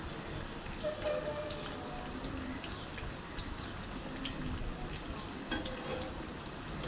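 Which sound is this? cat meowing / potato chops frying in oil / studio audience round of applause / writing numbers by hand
potato chops frying in oil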